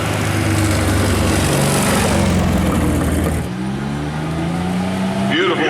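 A midget roadster race car engine roars loudly, its pitch rising and shifting as it revs, then drops and climbs again, with a brief burst of other noise near the end.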